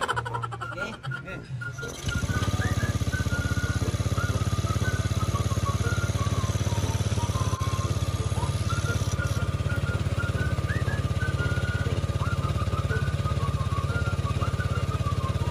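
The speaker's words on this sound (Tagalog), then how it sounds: "testingin natin ang kanyang motorsiklo after natin palaklakin ang gas treatment" A motorcycle engine runs steadily after a gas treatment has been added, a continuous close idle hum with a tonal whine, starting after a brief rustle and carrying on unbroken.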